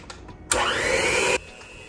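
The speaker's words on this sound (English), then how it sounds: "So I mix these strawberries in on the lowest setting." An electric mixer on its lowest setting folding whole fresh strawberries into cake batter, a steady close whirring motor that starts abruptly, runs for under a second and cuts off sharply.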